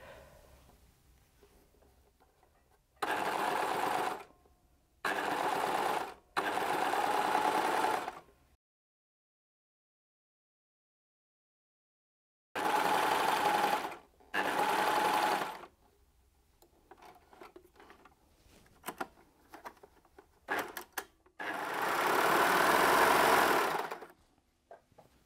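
A domestic sewing machine hems a viscose skirt in several bursts of rapid, even stitching of a few seconds each, separated by silent pauses and small handling clicks, close and clear.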